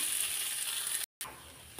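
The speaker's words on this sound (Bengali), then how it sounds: "তো আলুটা দিয়ে আমি অবিরত একটু নেড়ে চেড়ে নিলাম" Potatoes and onions frying in a pan while being stirred, giving a continuous, bright, hissing sizzle up close that cuts out for a moment and then resumes, with no talking.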